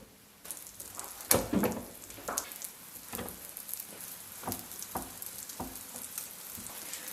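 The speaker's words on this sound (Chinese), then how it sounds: "饼锅预热，刷油， 放入饼坯，" Scallion pancake dough frying on a preheated, oil-brushed griddle pan, a steady sizzle with crackling pops and a few sharper bursts as the dough settles, close and clear with no talking.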